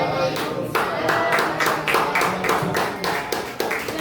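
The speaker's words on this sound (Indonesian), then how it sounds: "berikan aplaus" Audience applause at an Indonesian high school event, a dense run of hand clapping that rises sharply and holds at a steady, fairly loud level with individual claps audible throughout.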